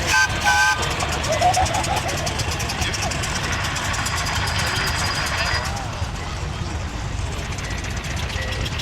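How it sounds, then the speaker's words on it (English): A two-cylinder Lister engine idles with a steady low chugging throb at a country show while people talk in the background over the whole stretch. "Now that's powered by a 2-cylinder Lister engine."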